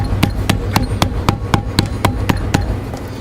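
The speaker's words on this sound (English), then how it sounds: "I'm going to give the sheath a once over again with a bodywork hammer" A bodywork hammer tamps down a leather knife sheath with a dozen sharp, evenly spaced strikes about a quarter second apart, loud and close, with no one speaking.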